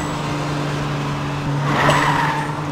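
A cartoon car races on a track in the PJ Masks Hero Academy game, a steady engine drone with a tonal hum, rising briefly near the end with a light tire squeal.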